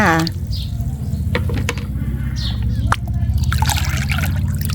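Water is poured into a container to make 10 litres of liquid fertilizer mix. The splashing and trickling sound is close and continuous and is joined by a low steady hum, with brief knocks and a voice speaking now and then.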